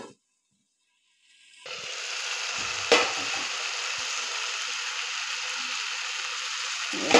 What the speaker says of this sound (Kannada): ಟೊಮೊಟೊ ಫ್ರೈ ಆಯ್ತು.